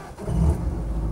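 A Land Rover 90 2.5 petrol hardtop engine turns over and catches, a short low rumble that rises into a steady idle, close and loud with no talking.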